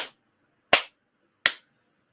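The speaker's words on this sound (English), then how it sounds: "3 claps for that man right there, man." Three sharp hand claps, evenly spaced about three quarters of a second apart, crisp and close with silence between them.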